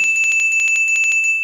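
A notification bell sound effect rings in a rapid series of bright, sharp dings, about a dozen strikes in quick, slightly uneven rhythm, loud and close with no talk.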